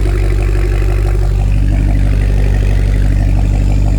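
A 2025 Cadillac Escalade V-Series SUV engine idles with a steady, low exhaust rumble and a slight clatter, running continuously and fairly loud throughout.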